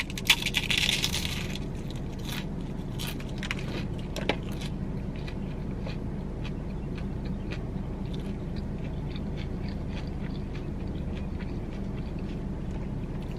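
Someone bites into crispy wonton shells stuffed with grilled chicken and topped with coleslaw and cilantro, an Applebee's appetizer: a loud crunch at the start, then fainter chewing crackles over a steady low room hum.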